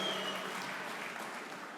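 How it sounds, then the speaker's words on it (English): A crowd at a Philadelphia faith and freedom summit applauds, a dense, steady wash of clapping from a large audience in a hall that fades slightly toward the end. "Now that gets a cheer."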